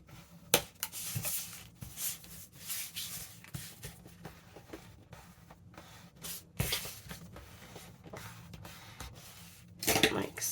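Paper-bag ephemera for a junk journal being burnished, a soft continuous rubbing and scuffing across dry paper with a few sharper brushing strokes, close and fairly quiet throughout.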